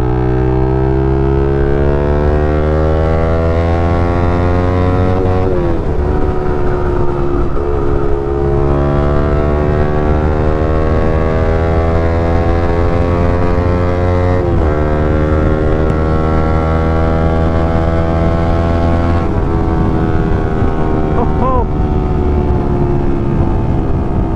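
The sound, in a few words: Modified Yamaha R15 v4 motorcycle exhaust note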